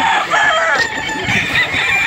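Chickens at a farm in Padre Garcia, Batangas, clucking and crowing close by in a brief, busy stretch of overlapping bird calls.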